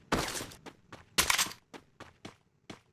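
Desert Eagle pistol shots in the game Free Fire ring out in sharp bursts, a loud pair up front followed by several quicker, fainter cracks spaced across the moment.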